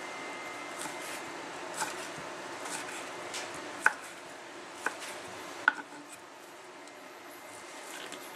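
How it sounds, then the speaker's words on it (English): Knife slicing salami on a cutting board outdoors: quiet scattered taps and soft cuts against the board, with a few sharper knocks close together in the middle, over low background noise. "Let's first go with cutting the salami up."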